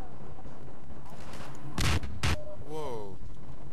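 Explosions in the video game Half-Life 2: two loud, sharp blasts close together amid continuous game noise, with a voice over the top.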